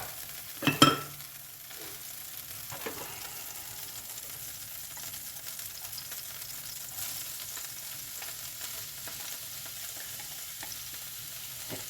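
Onions frying in oil in a pan, a faint, steady low sizzle running throughout, with a brief clatter near the start as they go in and occasional soft stirring sounds.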